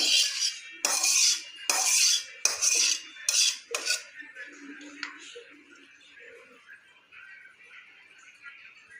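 Shrimp curry with taro and potato being served out of a pot, a sharp series of clanks and scrapes of a metal utensil against cookware for a few seconds, then quieter shuffling and soft handling noises.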